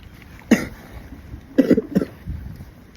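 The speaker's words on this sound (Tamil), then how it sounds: "இருமல் வேறு பயங்கரமான இருமல்ப்பா" Three harsh coughs, one loud burst then a quick pair, close by with steady background hiss between them.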